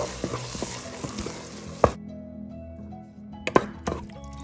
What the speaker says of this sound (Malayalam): സവാളയും തക്കാളിയൊക്കെ നന്നായിട്ട് വഴന്നു വന്നിട്ടുണ്ട്.